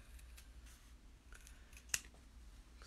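Scissors snip along the side cut line of an in-the-hoop embroidered tassel piece, a few quiet, close cuts with one sharper snip standing out near the end.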